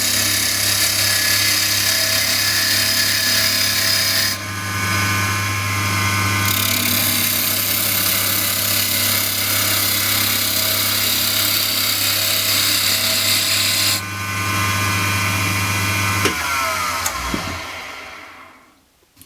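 A wood lathe spins a spindle blank steadily while a gouge cuts along it, giving a loud, continuous hum with shifting scraping texture. Near the end the motor winds down to a stop, and no one speaks.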